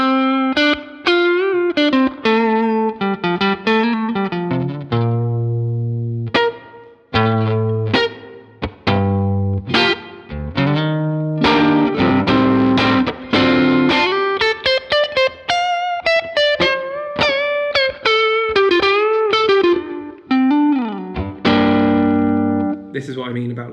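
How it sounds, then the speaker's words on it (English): Electric guitar played through a boosted Vox AC30 amp model, loud and driven with distortion, strummed chords and single-note lines alternating over about twenty-four seconds with short gaps between phrases. "what you're hearing there is a nicely boosted amp, or model of an amp"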